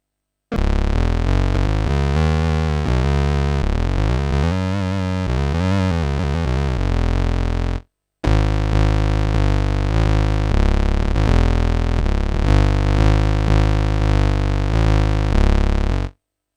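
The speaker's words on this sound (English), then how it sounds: "the Bass Synth preset, which sounds like this" Bass Synth preset from the Archetype Rabea plugin playing a loud, harmonically rich synth line with shifting notes, a brief gap near the middle, then a steadier sustained passage.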